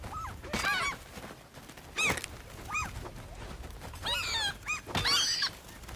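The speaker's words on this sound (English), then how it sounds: "the birds are going to attack you, so whip out your crowbar and take them out" Hostile birds in the horror game Reanimal let out repeated harsh, honking shrieks in bursts, mixed with dull thuds as they are struck with a crowbar.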